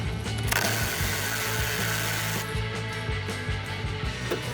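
A 10mm screw is backed out under the rear bumper of an Infiniti QX60 from the 2016–2020 years, with a close ratcheting, whirring tool sound running continuously and a few mechanical clicks.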